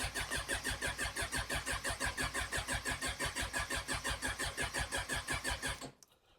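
Suzuki Bandit motorcycle on its first cold start with the choke on and a weak battery, the starter cranking in a fast, even, labored rhythm for about six seconds before cutting off without the engine catching.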